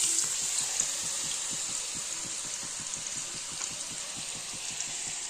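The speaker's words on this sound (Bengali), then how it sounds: "চলো দিয়ে দিই আলু পেঁয়াজ।" Potato and onion pieces fry in hot oil with a steady, bright sizzle and a soft rhythmic patter beneath, continuous and close, with no voices.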